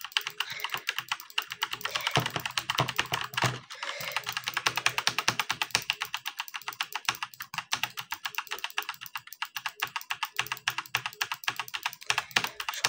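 Rapid, steady clicking of a new computer keyboard being typed on, close and fairly loud, with brief pauses, no voices.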